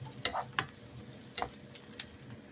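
Vegetables with green chillies and garlic are stirred while frying, a faint sizzle punctuated by several light scrapes and clicks from the spoon against the pan.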